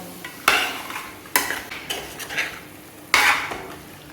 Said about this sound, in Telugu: మసాలా అంతా ముక్కలకు బాగా పట్టే వరకు బాగా కలిపేసుకోవాలి.